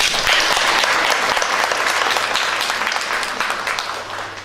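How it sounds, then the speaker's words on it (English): Audience giving a quick round of applause at an evening event, loud close clapping from many people that starts full and gradually tapers off over several seconds, with no voices over it. "So maybe just a really quick round of applause to thank them for that."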